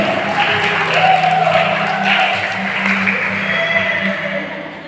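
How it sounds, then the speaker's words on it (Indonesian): An audience applauds during an Easter church service as awards are handed out, steady, sustained clapping from a large crowd that slowly fades, with a voice faintly over it. "Kita berikan tepuk tangan dulu."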